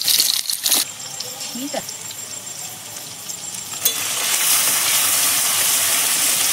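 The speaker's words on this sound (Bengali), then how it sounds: "তেল গরম হয়ে গেছে, আলু ভেজে নেব।" Potatoes fry in hot oil in a pan over a wood-fired clay stove: a steady, loud sizzling hiss starts abruptly about midway after a few clinks and continues unbroken, with a brief voice speaking early on.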